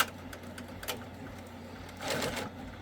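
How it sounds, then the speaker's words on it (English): An Avance embroidery machine runs a few stitches, giving a soft rapid needle clatter with light ticking, then a louder buzzing burst of stitching near the end, steady and close with no talking. "my hoop is just going to run these couple of stitches"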